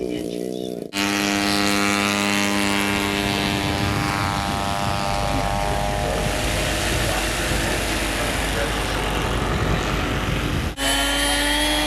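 A loud, buzzing propeller engine drones steadily as a 22.6 kg model aircraft with a 70 cc Eagle engine passes, its pitch sliding downward, with a brief dip at the start and end.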